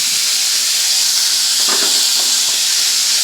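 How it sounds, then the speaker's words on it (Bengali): Chopped onions sizzle in hot oil while a rupchanda fish curry is being cooked, giving a loud, steady hiss that runs unbroken throughout, with a few faint clatters partway through and no talking. "এখানে আমি দিয়ে দেব কুচানো পেঁয়াজ। ওই তেলের মধ্যে দিয়ে দিচ্ছি।"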